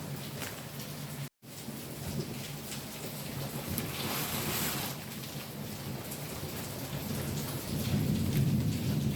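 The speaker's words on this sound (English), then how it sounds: "the weather today is so dark, it's raining" Heavy rain pours steadily in a thunderstorm, with a dense hiss throughout and low rumbles of thunder swelling in the background, including a louder roll near the end.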